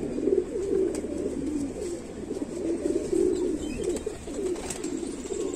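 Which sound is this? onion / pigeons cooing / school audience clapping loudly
pigeons cooing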